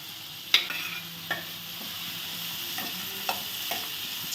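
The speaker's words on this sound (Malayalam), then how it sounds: "ഇതിട്ടൊന്ന് നല്ലതുപോലെ വഴറ്റിയെടുക്കാം." Onions and curry leaves sauté in a pan with a soft, steady sizzle, broken by a few sharp, close clinks and scrapes from stirring, with no voices.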